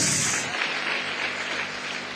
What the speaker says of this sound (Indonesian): Kalau mau tepuk tangan yang meriah bagi Tuhan Yesus.